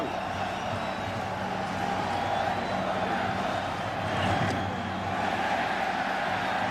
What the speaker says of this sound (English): this Fenway crowd is officially back in this game